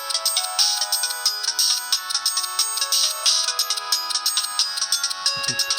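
A Samsung SGH-E300 ringtone from 2004 chimes continuously in a repeating pattern of bright, tinkling notes, moderately loud with no voices.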